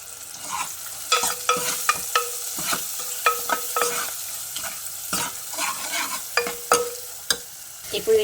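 Spices tempered in hot oil for a carrot-tomato rasam, with asafoetida and chilli powder added; a steady close sizzle runs throughout, broken by repeated quick clinks and scrapes of a stirring spoon against the pan.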